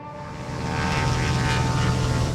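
An aircraft flies in to land in the video game Brassheart, a steady engine drone with a rising roar that swells and holds close and loud throughout.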